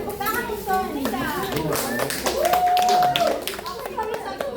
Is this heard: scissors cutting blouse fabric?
no